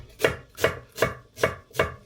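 Five evenly spaced knife strokes chop ginger into chunks on a cutting board, each a sharp close thud about every 0.4 seconds, with no talking.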